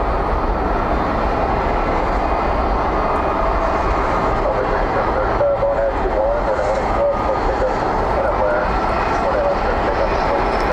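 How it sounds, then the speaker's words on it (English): An American Airlines A321 rolling down runway 18 left on departure at DFW at night, a steady, loud, broad engine roar that holds without a break throughout. "head to the departure, currently rolling down 18 left. This one an American Airlines A321"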